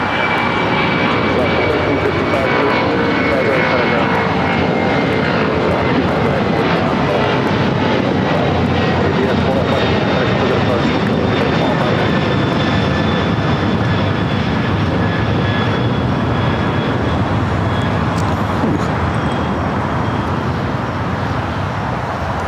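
Jet aircraft engines roar steadily at LAX airport in rough weather, a loud continuous whine and rumble lasting throughout, with a faint voice now and then underneath.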